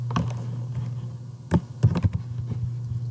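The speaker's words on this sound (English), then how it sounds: "So I'm going to type in my name." Someone typing on a computer keyboard, a quick run of close, light key taps with a few louder strokes clustered near the middle of the passage.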